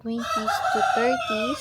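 A rooster crows loud and close in one long, wavering cock-a-doodle-doo that runs for over a second, with faint voices in the background.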